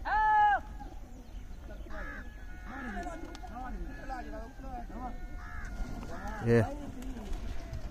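Pigeons gathered in and around trees, with repeated cooing calls and bird vocalizations close by over a steady outdoor background, several separate calls spread across the span.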